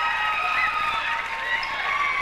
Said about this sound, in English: Oh, listen to the crowd on Mr. Pitts' basket.